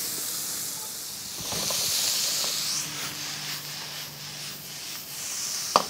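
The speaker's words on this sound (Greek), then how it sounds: "Τα λαχανικά μου λοιπόν τώρα τα έχω κόψει και τα ρίχνω στο ίδιο τηγάνι που είχα σοτάρει το σομπούκο." Chopped vegetables, including leek, sizzle in a frying pan previously used to sauté beef osso buco, giving a steady, close, bright hiss with a brief clatter near the end.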